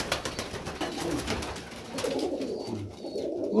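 A pigeon coos close by in a loft where its mate and chicks sit, after a long flight, a steady run of low, throaty cooing that carries on without any talk.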